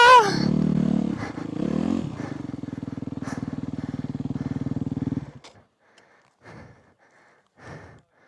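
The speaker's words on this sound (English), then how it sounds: "it's more tiring riding your bike at that speed" A dirt bike engine in the Arizona desert, loud and close, holding a steady throbbing rev for about five seconds before cutting off, followed by faint breathy sounds.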